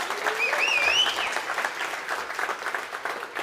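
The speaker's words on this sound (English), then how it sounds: "So please, one more time, just a big, warm round of applause for them." A warm round of crowd applause at a Techstars Web3 demo day, steady and full throughout, with a sliding whistle rising above the clapping near the start.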